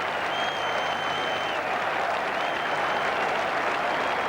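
Cricket crowd at Edgbaston applauding during the 1981 England v Australia Test match, a dense sustained roar of clapping from thousands of spectators lasting throughout.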